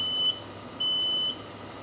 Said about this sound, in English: I have triggered an alarm, guys